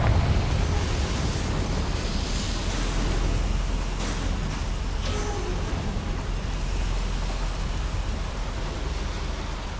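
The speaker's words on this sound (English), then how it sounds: "Incendio should be enough to light these flames" Fire conjured by the Incendio spell in the Hogwarts Legacy video game, a steady loud roaring rumble of flames with crackling bursts, sustained for the whole stretch with no talking.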